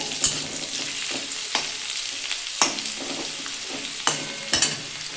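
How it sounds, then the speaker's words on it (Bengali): Potatoes frying in a pan, with a continuous soft sizzle broken by several sharp scraping stirs at irregular intervals, close up and without talk. "আমার আলুটা ভাজা হয়ে গেছে"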